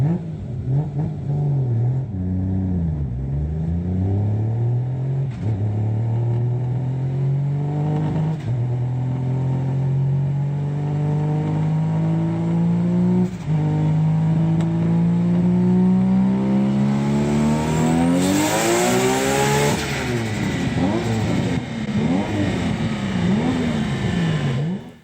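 A nearly 900 hp R32 Nissan Skyline GT-R with an HKS GTIII-5R turbo and 2.8 liter stroker kit on a dyno, its engine revving steadily upward through a long pull, loud and close, then dropping off with turbo whoosh.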